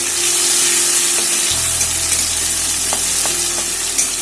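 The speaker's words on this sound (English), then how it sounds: "I just fry them on medium high heat for some time." Deseeded chopped tomatoes frying in a pan over medium-high heat give a loud, constant close sizzle with a low hum underneath and a few faint clinks, and no one speaking.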